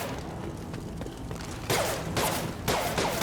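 Gunfire in the Mass Effect video game: a steady background of combat noise, then two loud bursts of weapon fire, one after the other, with no voices.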